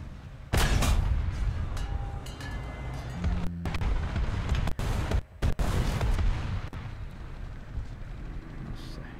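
T-10M tank cannon fire in War Thunder: a sharp, heavy blast near the start with a rolling boom, then further thumps and impacts over rumbling engine noise, loud and close, with someone talking intermittently.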